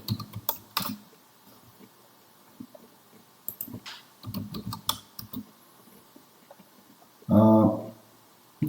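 Keys on a computer keyboard are tapped in short irregular bursts while a command is entered in CAD software, quiet clicks with pauses and one louder thump near the end, with no voice.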